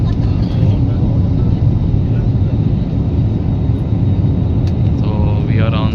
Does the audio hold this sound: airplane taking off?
yes